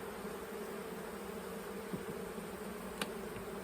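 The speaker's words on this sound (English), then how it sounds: "We wanna shake all of these bees in there" A swarm of honeybees gathered around mini nuc boxes makes a dense, continuous buzzing drone close by, with a few individual bees zipping past near the microphone.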